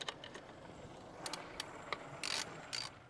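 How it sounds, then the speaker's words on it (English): Bolt and nut being worked loose on a Triumph Speed Twin motorcycle: a few faint metallic clicks and ratchet taps, then two brief louder bursts of ratcheting near the end, over a quiet background with no talk. "just remove the 8mm bolt together with its 10mm nut, and we have to do this twice"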